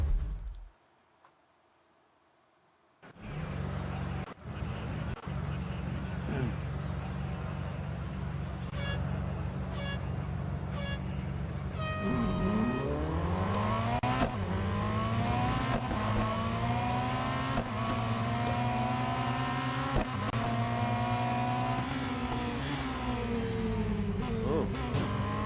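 A Ferrari Daytona SP3 races in Real Racing 3 at Silverstone's Grand Prix circuit, its engine note rising and falling through gear changes and sustained acceleration, loud and continuous after a brief quiet start, with other cars nearby.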